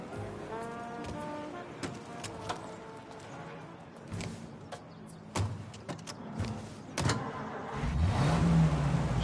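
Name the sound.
car driving in the video game Mafia: Definitive Edition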